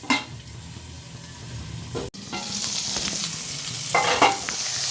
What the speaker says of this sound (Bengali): বেগুনটা দিয়েও আমি মিনিট 2 ঢেকে দিচ্ছি, যাতে বেগুনটা ভাজা হয়ে যায়।